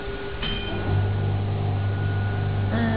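A vacuum roller slimming machine starts its suction, a steady low motor hum that switches on partway through and holds at a constant level, with a faint background tone.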